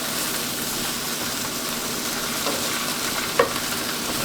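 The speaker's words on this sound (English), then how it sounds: "Give it a little stir." Garlic sizzling in a pan of oil for pasta, a steady close frying hiss with soft stirring scrapes and a brief utensil knock near the end.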